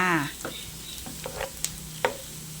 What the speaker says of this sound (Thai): เจียวไปเรื่อยๆ จนกว่าจะหอม กระเทียมมีสีออกเหลืองๆนะคะ